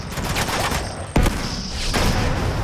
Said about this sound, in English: Oh, I can shoot on his feet, it seems.